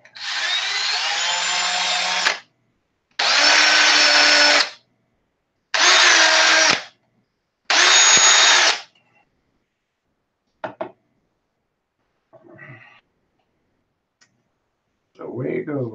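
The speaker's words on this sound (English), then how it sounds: "Well, we're going to have to drill them out." A power drill bores out washers at a bench in four loud whirring bursts, each about one to two seconds long with short pauses between, followed by faint clicks and a brief voice at the end.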